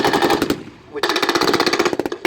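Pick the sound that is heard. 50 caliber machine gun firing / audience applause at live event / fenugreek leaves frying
50 caliber machine gun firing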